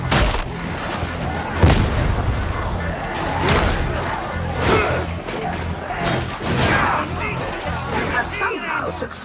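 A grenade detonates in the co-op shooter Darktide during a Zealot mission, giving a heavy boom amid dense battle noise: repeated crashes, gunfire and shouting voices throughout.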